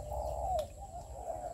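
A male spotted dove gives a soft, low, throaty coo, close and clear, one drawn-out call that swells then fades over a faint background hum.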